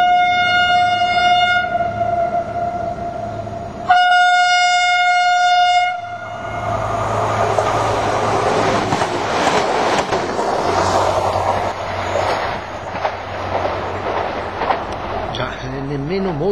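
An ALn 663 diesel railcar sounds its two-tone horn in two long loud blasts at Bard station, then rumbles and squeals along the track nearby with a steady engine drone.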